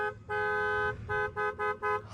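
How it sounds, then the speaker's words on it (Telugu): A Mahindra KUV100 car horn sounds close and loud, first one long blast, then four quick short honks in an uneven burst, with no talking. "హారన్"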